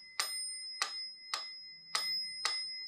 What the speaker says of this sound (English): And then there's a little bell too, right here.